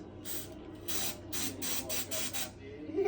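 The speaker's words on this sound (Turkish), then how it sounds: "Aynı sprey gibi." A spray can hisses in about six short, evenly spaced bursts, each pressed for roughly a quarter second, close to the microphone, with faint room noise between them.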